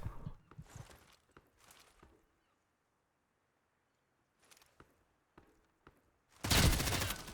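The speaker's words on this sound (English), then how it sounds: "He's trying to shoot me through the crate now." Gunfire in the Hired Ops shooter video game, scattered sharp shots early on, a quiet stretch with faint distant bangs, then a loud close burst of fire at the end.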